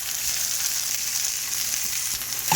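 Ground beef and pork sizzle steadily in a pan for tourtière, a constant loud crackling hiss with a brief clink of utensil at the end.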